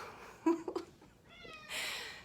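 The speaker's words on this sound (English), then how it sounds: "my kitty says hello." A pet cat meows a few times at close range, the short calls coming in quick succession, then a longer, brighter meow near the end, all heard alone in a quiet room.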